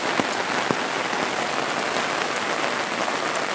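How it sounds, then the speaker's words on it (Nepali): Rain falling in a foggy forest, a dense steady patter of drops on leaves and surfaces with a few louder nearby drips, no voices. "कुहिरो पनि पानी पनि परिरहेछ बहुत"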